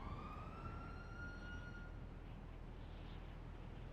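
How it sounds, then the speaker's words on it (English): A video-game police siren wails with rising tones over a steady low rumble, fading out partway through, leaving only the constant background noise. "I'm already hearing sirens."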